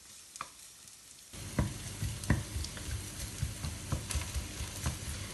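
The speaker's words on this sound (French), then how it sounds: "Je lui mets les oignons et je fais revenir mes oignons" Chopped onions hit hot oil in a frying pan and settle into a steady sizzle with soft stirring scrapes and occasional sharp pops, close and continuous after a quiet start.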